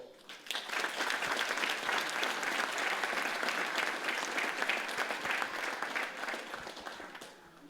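An audience applauds at a mayor's New Year wishes ceremony in Avesnelles, France, with sustained, dense clapping from a crowd that rises quickly and tapers off toward the end.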